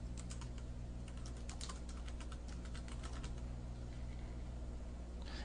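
Someone types a slide title on a computer keyboard, a quick run of light, closely spaced key clicks that is faint and close, with no talking, and a steady low hum sits underneath.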